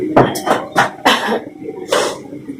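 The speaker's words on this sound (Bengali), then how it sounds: "সর্দি থেকে কাশি হতে লেগেছে" Several harsh coughs from a person with a cold, in uneven bursts, close and fairly loud with brief pauses between them, in an indoor home setting.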